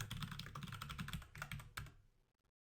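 Keys typed on a computer keyboard while working in a code editor, a quick close run of soft clicks and taps lasting about two seconds before falling silent, with no talk.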